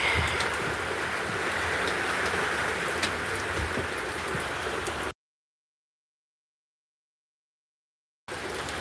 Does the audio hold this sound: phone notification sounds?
no